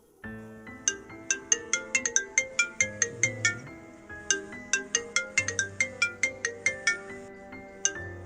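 A phone ringtone plays an incoming-call melody of quick, bright repeated notes in rhythmic bursts over a soft sustained backing, fairly quiet and with no talking.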